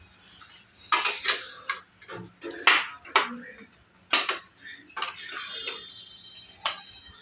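Mutton curry being stirred in a pot for a Satara-style rassa, with a spoon clinking and scraping against the metal in a quick, uneven run of sharp ticks. Soft background speech murmurs underneath.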